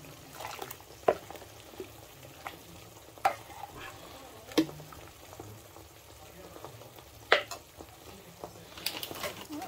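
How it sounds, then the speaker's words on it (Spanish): Butter melts and sizzles in a pot on the stove, a steady close frying hiss broken every second or two by sharp spoon knocks against the pot, with faint background voices. "Ahora dejaremos que se deshaga la mantequilla."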